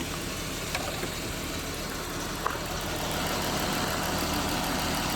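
A car engine idles steadily while warming up during coolant bleeding on an overheating engine, a close, even mid-pitched hum with a faint ticking, growing slightly louder toward the end, with no talk.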